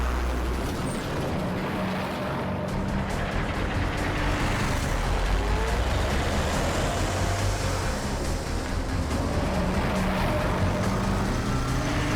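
A road vehicle drives nearby with a steady, loud engine rumble and traffic noise, suggesting a heavy car or bus moving continuously without pause.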